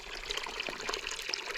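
Spring water runs out of a short piece of PVC pipe on the Appalachian Trail, a soft continuous trickle and splash heard close and fairly quiet, with no talking.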